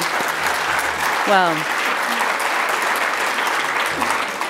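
Steady applause from a conference audience, sustained and fairly loud, with a brief whistle or voice-like tone rising out of the clapping partway through.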